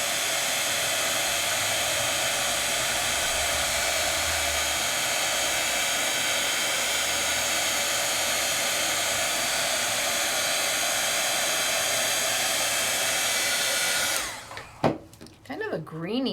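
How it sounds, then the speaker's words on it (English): Heat tool blowing hot air steadily over an embossed craft piece, a loud continuous whoosh that runs unbroken for most of the span before cutting off near the end, followed by a brief clatter. "As I see it turning, that's when I'm moving my heat tool."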